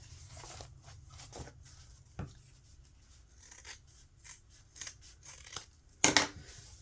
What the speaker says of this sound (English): we're going to go ahead and trim those seam allowances down to about 1/4 of an inch or so